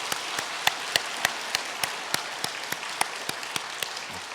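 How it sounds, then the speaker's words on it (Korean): A church congregation claps in welcome during a Sunday worship service, a moderately distant, even patter of many hands with regular sharper claps punctuating the steady wash. "이렇게 환영의 박수로 맞아주시면 감사하겠습니다"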